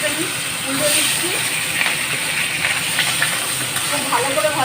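A katla fish head sizzles in hot oil in a kadai, a steady loud hiss that lasts throughout with faint crackles.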